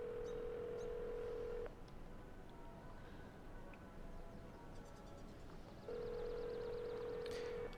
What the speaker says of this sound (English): How long does it ring for?